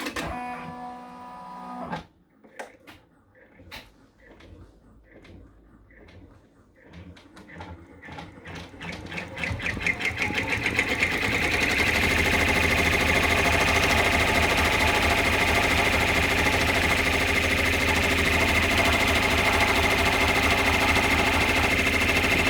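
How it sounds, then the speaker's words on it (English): An in-the-hoop embroidery machine stitching the final contour of a polar bear stuffed toy: sparse clicks and taps build into a loud, steady, rapid mechanical whir that continues evenly to the end, with no talking. "back to the machine for the final contour of this design."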